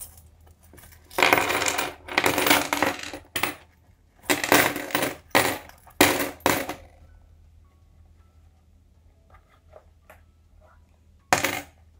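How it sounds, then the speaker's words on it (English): Coins tipped out of a purse, a rapid metallic jangle and clatter in several loud bursts over about twelve seconds, with quieter scattered clinks between them and no talking. "Let me just get my purse and empty out"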